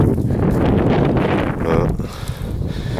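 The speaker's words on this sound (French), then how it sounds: "il y a un petit peu de vent" Steady wind gusting across a freshly mown alfalfa field buffets the microphone with a broad, continuous rumble and rustle, with no pause through the clip.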